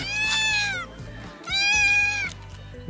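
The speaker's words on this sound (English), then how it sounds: "Very loud cats of Oman." Two long, loud, drawn-out cat meows ring out close by in a valley in Oman, one after the other, with a low steady hum underneath.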